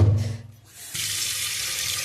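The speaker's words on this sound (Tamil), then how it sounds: "தாலை வந்து தண்ணி ஊற்றி கழுவி எடுத்துக்கலாம்" Running water from a tap pours over lentils being washed for salt-free dal. A short clatter and splash come first, then a steady rushing stream fills a sink for the rest, with no talking.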